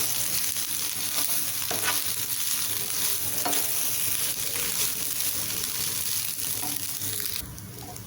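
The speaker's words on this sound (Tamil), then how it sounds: "சாதம் உடையாமல் கிளறி விட்டுட்டேங்க." Egg rice being stirred in a hot pan, a steady close sizzle with soft scraping turns throughout, the frying noise dropping slightly near the end.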